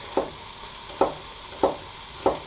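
Chunky onions in a pot for chilli con carne are stirred in four evenly spaced scrapes over a faint frying background, close and fairly quiet, with no talk.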